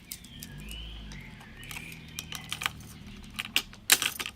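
An ammunition belt fed through a UK-59 machine gun clicks into place, giving a series of sharp, close mechanical clicks that grow denser toward the end, with no talking.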